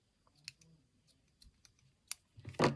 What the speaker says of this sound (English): So cut your light blue string,